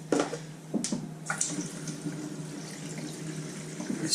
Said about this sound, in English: Let's fill that up with cold water.